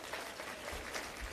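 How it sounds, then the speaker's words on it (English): Audience clapping steadily throughout a church-hosted diaspora forum evening with the Prime Minister, a dense, continuous wash of many hands at moderate distance with no voices over it. "Yes, you can clap for that as well."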